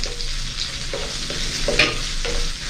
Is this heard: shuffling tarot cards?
no